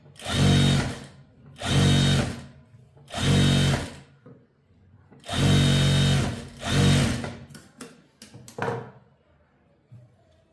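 A sewing machine stitching the lining of a frock runs in five steady whirring bursts, each lasting about a second. A few short stuttering stitches follow, loud and close, with no speech over them.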